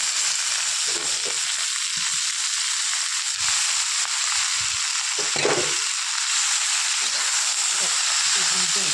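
Fenugreek greens with eggplant, potato and beans fry in a pan, a constant bright sizzle and hiss running throughout, with occasional stirring scrapes and someone speaking softly beneath it.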